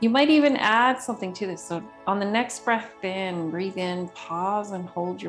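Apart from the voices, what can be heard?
No everyday noise stands out behind the speech.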